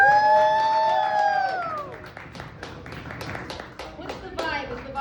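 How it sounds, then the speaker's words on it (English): A stand-up comedy crowd claps and cheers as a comedian comes on stage, the applause running under bright tonal music at the start, then breaking into scattered claps and a few whoops. "Make a big round of applause."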